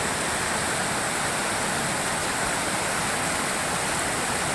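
Heavy monsoon rain and a swollen, raging river in a Himalayan hill village, a dense continuous roar of rushing water and rainfall filling the scene at steady loudness, with no voices.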